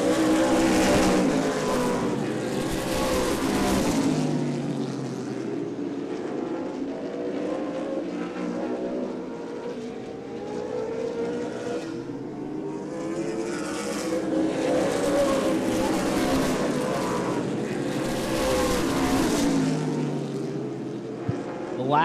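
Outlaw Super Late Model race cars roar past on a speedway in loud, sweeping waves that rise and fade as the pack goes by, with an announcer's voice running over the engines.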